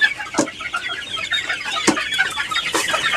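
Egyptian Fayoumi chickens cluck continuously nearby, several birds overlapping in a busy, uneven chatter with sharper clucks standing out.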